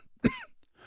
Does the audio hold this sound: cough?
yes